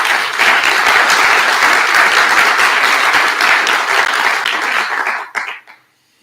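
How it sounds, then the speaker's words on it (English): A conference audience breaks into loud, dense applause that holds steady for about five seconds, then thins into a few scattered claps and stops abruptly. "So please give them a round of applause."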